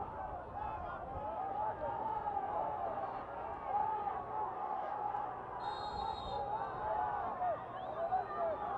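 Stadium crowd noise at a Concacaf Under-17 Championship football match between Panama and Guatemala: a steady, distant roar and babble of spectators hums continuously beneath a commentator talking over it.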